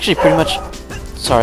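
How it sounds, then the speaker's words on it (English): A pet dog barks a few times close by, with short sharp yelps at the start and again near the end, mixed in under someone talking. "that was my dog"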